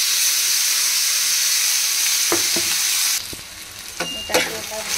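Paneer and peas being stirred in a frying pan sizzle steadily with a bright hiss, then the frying quiets and a few sharp scraping clicks of the spatula against the pan come through.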